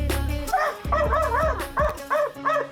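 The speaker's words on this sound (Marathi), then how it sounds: "सर्किट काला डॉन आडग्या शॅम्पू ही नावं आहेत मैदान गाजवणाऱ्या कुत्र्यांची" Several greyhounds yip and bark excitedly at a dog race in Kolhapur, India, in quick, overlapping bursts, close by and loud.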